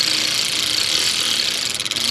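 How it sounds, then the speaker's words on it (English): An electric ratchet runs down intake bolts on a 2015 Nissan Pathfinder, a steady whirring motor with ticking gear clicks, close and loud, slowing and stuttering in the final moments. "Now I'm just going to run this down with the electric tool."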